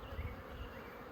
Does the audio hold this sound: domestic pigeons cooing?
no